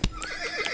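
A horse whinnies in a Wild West outlaw video game. The call is loud and close, with wavering pitch, and a sharp thump comes at its start.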